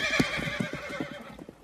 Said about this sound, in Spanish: ¿Qué le pasa al caballo? Parece estar más nervioso que la novia.